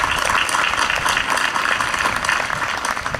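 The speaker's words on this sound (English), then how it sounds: "Join me in applause for them." A crowd applauds at a graduation commencement ceremony, with dense, sustained clapping filling a large space for a few seconds.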